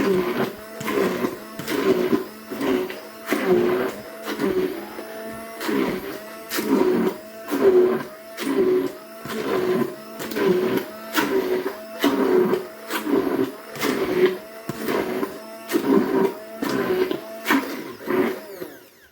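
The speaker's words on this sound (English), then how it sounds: "I might change my stick blender to the whisk." A stick blender mixes hot process shaving soap in short repeated bursts, pulsing on and off in a steady rhythm, each burst a loud motorized whir close up.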